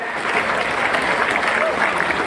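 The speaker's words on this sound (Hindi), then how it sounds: "ये तालियों की तादाद तो और बढ़ना चाहिए" An audience claps at a commemorative gathering in an Indian memorial hall. The applause is dense, steady and sustained throughout, loud and close, with a faint crowd murmur beneath it.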